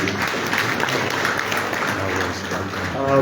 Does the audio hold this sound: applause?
yes